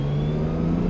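A Nissan Skyline GT-R R32 engine pulls steadily under acceleration, a close, loud, continuous hum lasting about a second with no talk.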